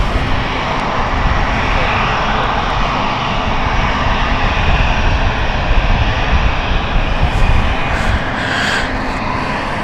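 Airplane taking off at London City Airport, a loud, steady engine roar holding for the full stretch with a broad rushing tone, close and dominant, with faint talk in the background.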